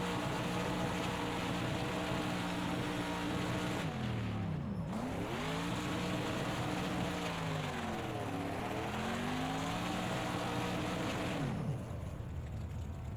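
An IMSA GTD Pro race car does a burnout on a wet track at Indianapolis, its engine screaming at high revs without a break, with pitch swoops as the throttle is blipped, loud and close.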